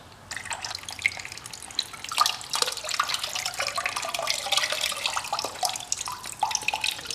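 Old coolant and flush water drain and trickle from a Yamaha Raptor 700 ATV, a steady close splashing stream with scattered drips, no talking.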